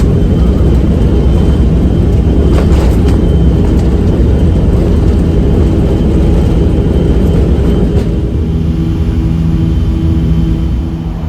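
A Trigana Air Boeing 737-300 roars down the bumpy Wamena runway on its takeoff run, a loud, steady jet thunder heard from inside the cabin that eases slightly near the end.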